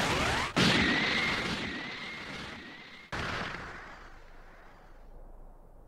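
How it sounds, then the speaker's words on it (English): A loud, sustained Special Beam Cannon energy blast from the Dragon Ball Sparking Zero video game roars out with a rising whine, cut by a sharp crack partway through, then slowly fades away. "Special beam cannon!"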